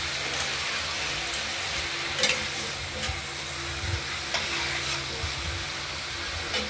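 Vegetables sizzling in oil in a pan as salt and turmeric are stirred through them, a steady frying hiss broken by a few clacks of the spoon against the pan, with no voices.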